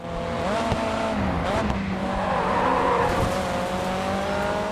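Race car in the GRiD 2 video game roars at high revs with tires squealing through corners, engine pitch sweeping up and down over a continuous loud drone, with a brief voice over it.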